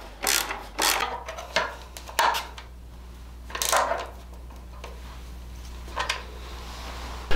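Ratchet driving a T27 Torx bit to tighten tail tidy bolts on a 2021 Triumph Bonneville, a few short quiet bursts of clicking spaced apart with soft pauses between.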